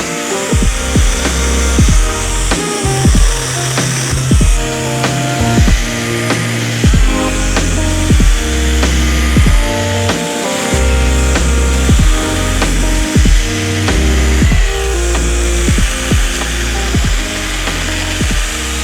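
A Stihl GTA 40 cordless pruning saw cuts through hardwood, its steady high-pitched motor whine running loud and continuous with repeated short bursts as the chain bites the wood.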